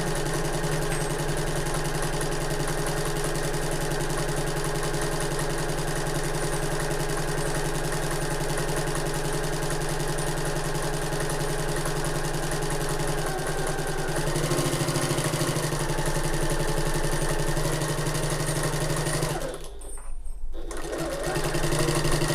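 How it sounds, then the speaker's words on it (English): A sewing machine sews around a tote loop with a quarter-inch seam, humming continuously and steadily for about twenty seconds with a brief pause near the end. "all I'm doing is sewing around the entire loop on one side with a 1/4 inch seam allowance"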